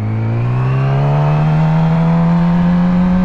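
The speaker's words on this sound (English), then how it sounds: "We're gonna slowly let the clutch out, little bit of throttle." A motorcycle in first gear pulls away from a stop as the clutch is eased out with a little throttle. Its loud, steady engine drone rises slowly in pitch throughout, with no voices.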